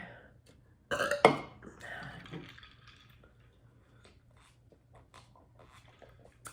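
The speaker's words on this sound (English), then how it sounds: "So let me try to burp." One loud, brief burp from a person eating a Costco rotisserie chicken, followed by faint mouth and handling noises in a quiet room.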